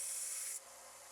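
A spinning rod pressed by a hand drill against a running belt sander, turned opposite to the belt, gives a steady abrasive rubbing hiss that drops to a lower, quieter grind partway through; no voices.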